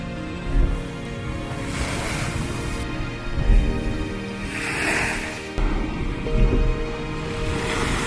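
Bicheno Blowhole on the Tasmanian coast, ocean surf surging and spouting through the rock in a steady roar of water and wind, with bursts swelling louder around the middle and again toward the end.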